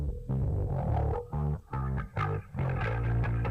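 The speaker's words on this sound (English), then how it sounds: "I got really into using like flanges and choruses on this album." Bass guitar played through flanger and chorus effects in a produced track, short sustained notes with swirling, sweeping modulation, alone and fairly clean.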